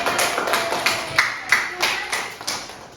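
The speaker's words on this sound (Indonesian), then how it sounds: "Beri aplaus dulu untuk kalian semuanya" Applause from a classroom of students for their discussion groups, a scattered patter of claps with irregular accents over about three seconds, moderately loud and close, with no voices.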